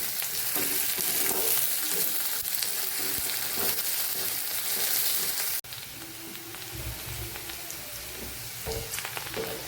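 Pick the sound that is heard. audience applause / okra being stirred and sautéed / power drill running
okra being stirred and sautéed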